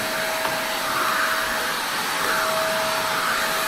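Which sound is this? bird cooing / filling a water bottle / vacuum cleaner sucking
vacuum cleaner sucking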